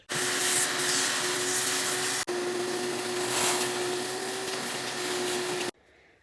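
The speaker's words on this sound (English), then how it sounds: "Okay, so I just finished sanding down all of that rust." A power sander grinds rust off the metal floor of a school bus being converted into a skoolie, running as a loud steady whine from close by. It cuts out briefly once, then stops near the end.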